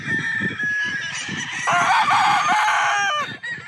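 An early bird gamefowl rooster lets out a loud, drawn-out crow close by, preceded by clucking and rustling from the flock.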